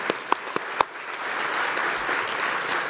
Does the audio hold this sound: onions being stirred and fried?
no